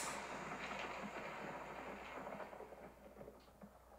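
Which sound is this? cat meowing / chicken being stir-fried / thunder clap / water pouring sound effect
thunder clap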